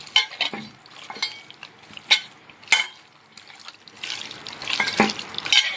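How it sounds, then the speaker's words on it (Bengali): Mutton being mixed and squeezed by hand with spices for a marinade in a home kitchen, giving soft wet squelching and slapping sounds in an uneven rhythm, close and moderately loud, with no talking. "মাংসটা যত চেপে চেপে মাখবে মাংসের ভিতর মশলাটা তত ভালোভাবে বসবে"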